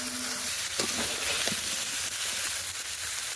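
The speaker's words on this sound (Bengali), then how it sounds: "এবার দিয়ে দেবো কেটে রাখা বেগুন আলু" Cut eggplant and potato frying in hot spiced oil in a pot, a steady dense sizzle and hiss running throughout at an even, fairly loud level, with a few faint clinks of utensils.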